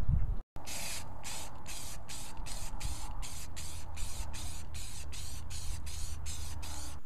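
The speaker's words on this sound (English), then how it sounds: "I just now cut it out so I can start spraying it" Repeated short spray-paint bursts on a wooden chair in a steady rhythm, one after another for several seconds, close and hissy, over a low background rumble.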